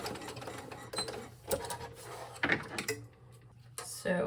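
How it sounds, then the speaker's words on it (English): A sewing machine back stitching at the corners of a fabric bag runs in short whirring bursts separated by pauses, close and fairly quiet, with small clicks and handling noises between runs. "going to keep my needle in the down position when I turn at these corners, and I am back stitching"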